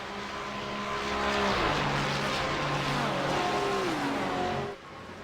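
GT3 race cars scream down the back straight at Road Atlanta, engine notes rising and sweeping past one after another, loud and close before fading away.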